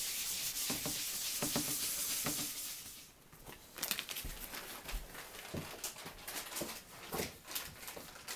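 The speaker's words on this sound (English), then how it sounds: "Then you take some Scotch-Brite and buff it out." A Scotch-Brite pad buffs fresh wax on a snowboard, giving close, soft scrubbing and rubbing strokes that turn into scattered short scuffs and taps, with no talk.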